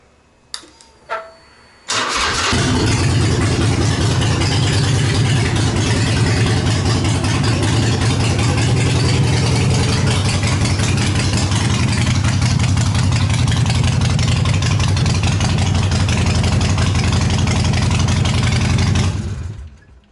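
A 2000 Harley-Davidson motorcycle with straight pipes and no mufflers cranks and fires up, then roars loudly with an open, unmuffled rumble, idling and revving steadily up close before cutting off.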